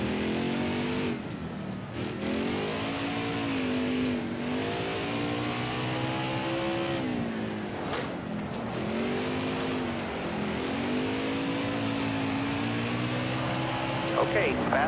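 Race car engine in the Nascar Heat 5 dirt track game, loud and continuous, revving up and down through repeated gear changes and corner lifts, with occasional tire squeal.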